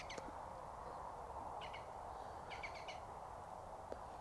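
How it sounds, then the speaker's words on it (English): A green woodpecker calls near oak trees with dead timber. Faint, distant bursts of short repeated notes rise over a steady outdoor hiss. "Green woodpecker."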